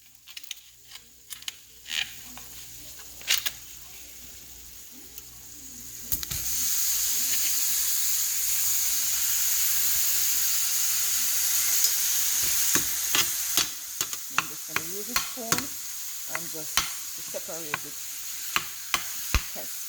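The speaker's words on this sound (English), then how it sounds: "I'm going to use the same pan to do the beef. So I'm just gonna put the beef in." Ground beef hits a hot frying pan with metallic clanks and scraping, then a loud, steady sizzle builds and holds before spatula knocks and stirring break up the meat while the frying continues underneath.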